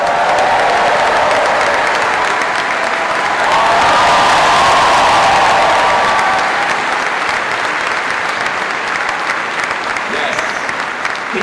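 Graduation ceremony audience at Warwick University applauding and cheering for the photographer, a loud sustained wash of clapping that swells briefly with cheers and carries on throughout, with some talk beneath.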